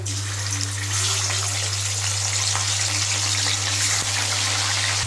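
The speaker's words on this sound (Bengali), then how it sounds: "এইভাবে সব মাছগুলো ভেজে নিচ্ছি।" Fish sizzles and crackles in hot oil, a steady dense hiss with a low constant hum underneath, and no voices.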